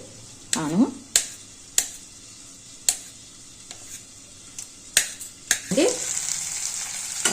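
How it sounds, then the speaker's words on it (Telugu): Chopped potatoes going into a frying pan, bursts of sizzling with sharp clicks and knocks of a utensil against the pan at irregular intervals, steady frying noise beneath, no talking. "ఇప్పుడు ఆలు కట్ చేసినవి వేసేస్తాను."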